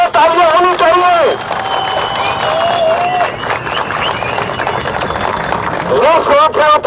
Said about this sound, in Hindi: अभी तालियों में कमी है,